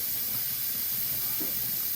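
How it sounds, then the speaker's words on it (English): Steady hiss of steam venting from a Carey Smart Canner by Nesco, an electric pressure canner, continuous and fairly quiet with no talking over it. "All right, so you guys can hear it steaming."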